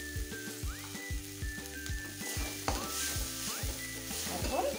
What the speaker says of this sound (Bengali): যে আমার মশলাটা কষানো হয়ে গেছে, একটু লাল লঙ্কার গুঁড়ো দিয়ে দিচ্ছি।